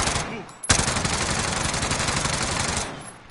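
Sustained rapid automatic gunfire from Call of Duty Warzone, a loud continuous burst of about two and a half seconds that starts with a sharp crack and then tails off.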